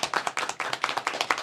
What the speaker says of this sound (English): So I applaud you